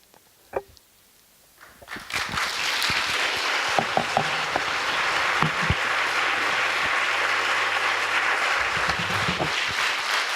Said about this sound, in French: Que vos applaudissements aillent essentiellement à toutes les personnes